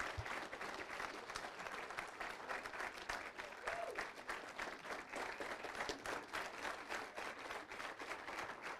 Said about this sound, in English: Another round of applause for Charlotte Jones Simmons.